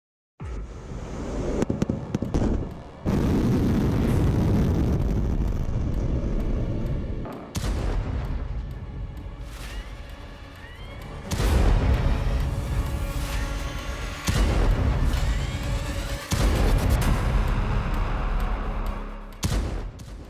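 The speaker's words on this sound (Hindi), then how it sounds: "पुतिन की हाइपरसोनिक मिसाइलों की गड़गड़ाहट ने पोलैंड से लेकर वॉशिंगटन तक हड़कंप मचा दिया है।" Rumbling explosions stand in for hypersonic missile strikes as a news sound effect: heavy, loud booms and long roaring rumbles that swell and cut off in several waves, with no speech.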